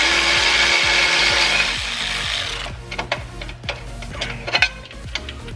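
A ratchet wrench clicks repeatedly at close range while removing a transmission bracket bolt on a Nissan 370Z, following a steady whirring hum at the start.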